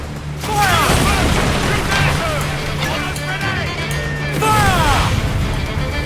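Gunfire from ships in Assassin's Creed Black Flag, heard as repeated booming blasts and crashing impacts amid dense naval battle noise, with voices shouting over the action.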